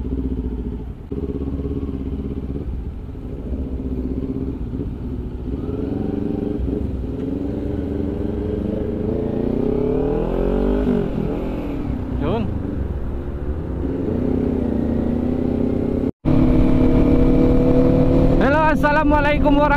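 Motorcycles including a Honda CB650, a Yamaha MT-09 and a Yamaha T-Max rev their engines nearby at a pre-ride registration gathering, with rising and falling engine pitches under steady crowd noise and voices talking throughout.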